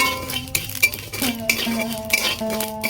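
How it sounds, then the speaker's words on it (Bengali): A spoon stirs and scrapes cumin, coriander, bay leaf, chilli and salt frying in a pan for raw mango pickle, with close clinks of metal on the pan over a faint sizzle. "এবার আমি ভালো করে মশলাগুলো ভেজে নেব"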